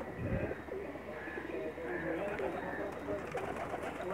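Khambi Pakistani pigeons coo in a loft in a village near Sarai Alamgir, soft repeated throaty calls close by, while someone talks over them.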